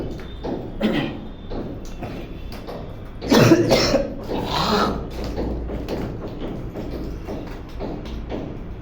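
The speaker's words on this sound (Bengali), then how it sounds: "গলাও একদম কাশি, সর্দি কাশি জ্বর" A person coughs hard from demolition dust caught in the throat, with a loud burst of several close coughs mid-clip and fainter thumps and taps before and after.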